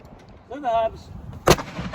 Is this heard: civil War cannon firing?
yes